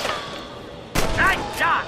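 A gunshot in the video game Red Dead Redemption cracks sharply midway after a quiet stretch, loud and sudden, followed by a shouting voice.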